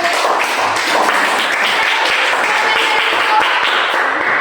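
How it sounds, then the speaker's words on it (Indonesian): A classroom of students applauds, a steady wash of clapping that fills the room evenly and stays loud throughout. "Oke, beri tepuk tangan untuk"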